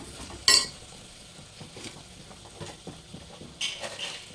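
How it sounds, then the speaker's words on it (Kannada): Chopped tomatoes are tipped into a pan and stirred, opening with a sharp metallic clink, then soft scraping and faint sizzling, with another clink near the end. "ಟೊಮೊಟೊ ಏನು ಕಟ್ ಮಾಡಿ ಇಟ್ಕೊಂಡಿದ್ದೆಲ್ಲ ಇದನ್ನು ಹಾಕ್ಕೊಂಡ್ಬಿಡಿ"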